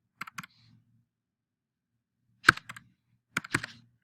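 A password being typed on a computer keyboard: a few quick key clicks, a long pause, then another short burst of clicks and a final pair of taps, close and quiet.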